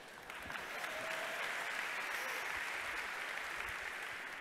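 Sustained applause from a large conference audience at the Esri User Conference 2017, a dense, even wash of clapping that holds steady for several seconds.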